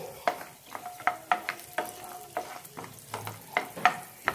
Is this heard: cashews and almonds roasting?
yes